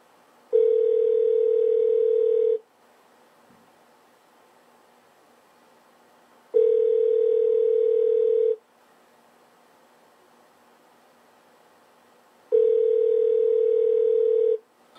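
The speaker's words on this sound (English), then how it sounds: "We are calling. No one is answering." Long ringback tones of an unanswered call to an emergency phone number, three steady buzzing rings each about two seconds long separated by roughly four-second silences, loud and clear with no talk.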